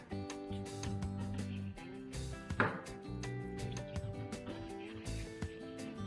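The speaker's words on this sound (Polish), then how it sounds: "kroimy go w kostkę tak może być grubszą" A knife chops meat into cubes on a board for prażonki, a Polish potato-and-meat pot dish, giving a faint, fairly regular run of close knocks and taps with a few louder strikes.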